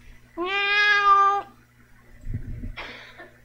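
A cat gives one clear, drawn-out meow close by, followed by a short rustle and a second, shorter meow-like call.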